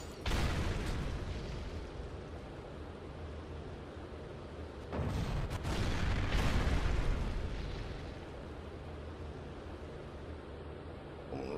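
Dynamite blasts in the superhero video game Champions Online: loud rumbling explosions with a burst near the start and another heavy boom around the middle, trailing into a sustained low roar.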